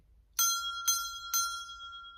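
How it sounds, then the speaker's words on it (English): A small bell struck three times at an even pace, each bright ring lingering and overlapping the next, clear and close in a quiet room. "I'm gonna ring the bell too."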